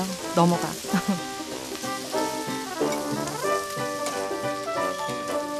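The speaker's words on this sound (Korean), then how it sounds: "지글지글 침이 꼴딱꼴딱 넘어가." Steady crackling sizzle of freshly caught fish frying in a pan in Brazil, bright and continuous, with faint background music-like tones running underneath.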